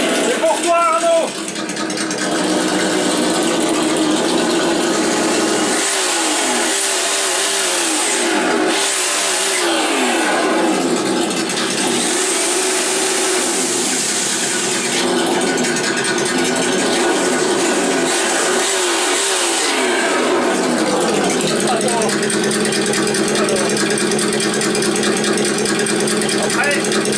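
Kyosho Foxx 2 RC car fitted with an ESS Dual engine sound module, a loud, steady simulated engine drone with rising and falling revving sweeps running through the whole stretch, talk faintly underneath.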